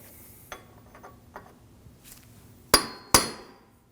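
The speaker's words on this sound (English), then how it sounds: "Using a punch and a hammer, we'll release the axle from the hub." A few light taps, then two sharp, ringing metal strikes of a hammer on a punch releasing the rear axle from the hub of a 2013-2015 Subaru XV Crosstrek, close and loud, each decaying quickly.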